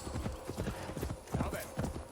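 Horse hooves clip-clop at a steady trotting rhythm in Assassin's Creed Valhalla, fairly close and continuous, mixed with soft game ambience.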